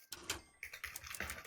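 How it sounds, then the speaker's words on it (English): Typewriter keys clatter in a video game, a quick run of sharp clicks and taps at close range, with small gaps between strokes and nothing else heard. "Typewriter skipped a little bit."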